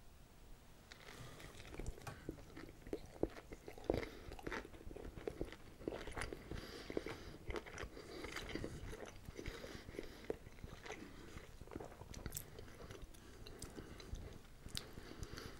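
Close, quiet chewing of a Wendy's Bourbon Bacon Cheeseburger, with steady soft bites, squishy mastication and occasional crunches continuing for several seconds without speech.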